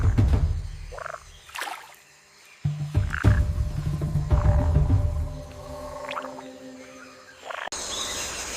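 Frogs croak in the Amazon jungle, close and loud, in repeated calls over a dense chorus of night insects and other forest creatures.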